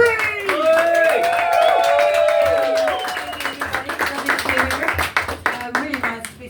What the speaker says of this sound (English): let's put your hands together and give a big belly laugh cheer for Miss Anne-Marie Breen.